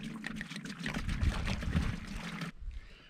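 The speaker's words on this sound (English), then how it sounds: "I have an ice chest here that I'm gonna fill up with water." Water from a hose with a shutoff valve pours steadily into an ice chest set up for wet drilling on boulders, a close, continuous splashing rush that cuts off abruptly near the end.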